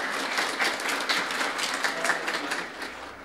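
An audience at a talk on a Cambridge rebranding project applauds with dense, continuous clapping from many people, steady and moderately loud throughout, fading slightly at the end.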